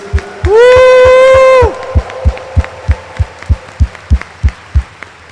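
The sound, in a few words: congregation applauding loudly at mass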